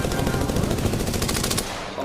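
Sustained automatic gunfire from the battle royale video game Apex Legends, a dense continuous burst of rapid shots that fills the clip and eases off slightly near the end.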